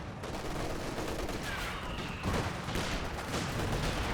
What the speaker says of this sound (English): Conscripts firing away against the Panzer Grenadiers.